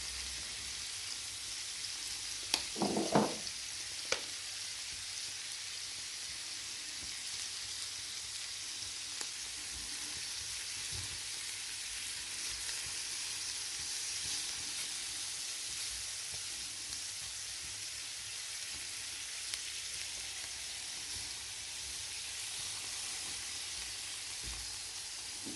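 Squid frying in a pan with black pepper, crushed chilies and ground coriander: a steady, even sizzle and hiss holds throughout, with a few louder pops and crackles near the start.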